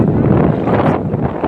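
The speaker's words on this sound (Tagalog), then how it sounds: "Tapos ang lakas pa ng hangin." Strong storm wind in Manila buffets the microphone in a dense, continuous roar with gusty swells, loud and close, no voices.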